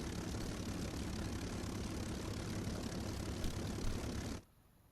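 The twin engines of a de Havilland Mosquito intruder in the IL-2 Battle of Normandy flight sim drone steadily at a fairly quiet level, then cut out abruptly near the end and leave near silence.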